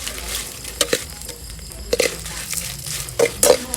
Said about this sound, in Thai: นี่พริกครับ น้ำมันน้ำร้อน ใส่ลงไป คั่วก่อน